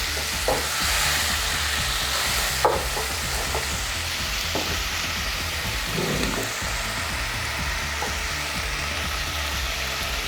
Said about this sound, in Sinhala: ඊට පස්සේ අපි අපේ එළබට ටික, අල ටික, කරවල ටික ඒ ටිකත් මේ විදිහට එකතු කරනවා.